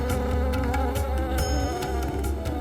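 Honeybees swarm around their hive with a dense, steady buzzing drone. The sound is close and loud and carries on without pause.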